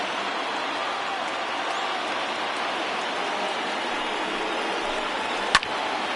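A baseball stadium crowd of over 39,000 roars steadily at a 1-0 Baltimore Orioles game against Boston in the top of the ninth. The noise is a distant, even wash with one sharp crack near the end.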